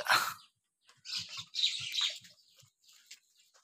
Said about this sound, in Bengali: এই সামনে যে কবুতরটা দেখতে পাচ্ছেন, এটা হচ্ছে রেসার কবুতর